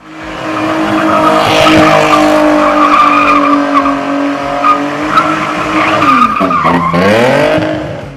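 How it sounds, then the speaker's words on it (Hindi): A drifting car's tires skid and squeal loudly and continuously over a sustained engine note, with the pitch swooping down and back up near the end. "जब आप गाड़ी पर ड्रिफ्टिंग करते हैं"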